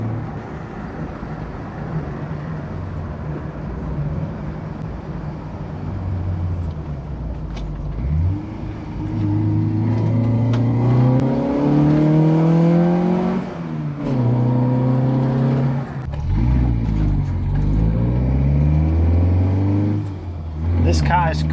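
Autobianchi A112 Abarth engine while driving, idling low, then revving hard through rising gear pulls with brief lifts between shifts, loud and close inside the car, with no talking.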